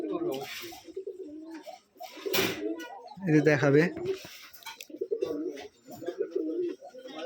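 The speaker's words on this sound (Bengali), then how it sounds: "এগুলো কিন্তু রুমবাজির কবুতর।" Roller pigeons kept in a home loft coo softly in low, rolling phrases, with someone talking over and between the calls close by.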